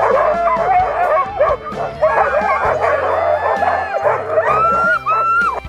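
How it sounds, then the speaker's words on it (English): Huskies and husky crossbreeds harnessed six to a sled in Lapland, Finland, bark, yip and howl loudly in a dense, overlapping chorus that carries on without pause before the ride sets off. "The huskies cannot wait to set out into the wild and bark loudly."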